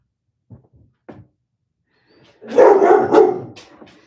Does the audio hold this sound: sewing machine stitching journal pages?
no